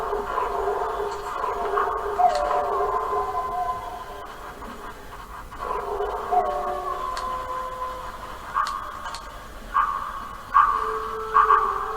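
Dogs bark and howl at a distance, with drawn-out tonal howls and scattered sharper barks, moderately loud against a quiet background.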